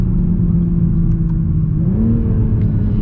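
A Toyota Supra's BMW engine drones loudly and close, then its pitch climbs as it revs up, a deep steady rumble throughout.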